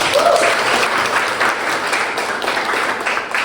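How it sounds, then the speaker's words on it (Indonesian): A lecture audience claps for a health sciences teaching session, a dense, loud burst of applause from many hands that starts right away and fades slightly toward the end. "Beri aplaus dong."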